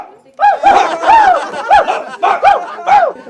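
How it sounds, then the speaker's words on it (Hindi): Several dogs bark loudly in a rapid, uneven series of sharp yelping barks during a rural comedy skit. "भौंक रहे।"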